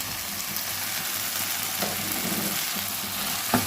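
Chopped tomatoes and three green chilies going into a rohu fish masala frying in a pan with little oil, a steady close sizzle with occasional stirring clinks.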